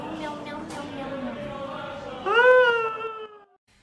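A singer imitates a cat's meow with the voice, first a run of soft sung vocal lines and then a louder, drawn-out nasal meow-like wail that rises and fades before silence.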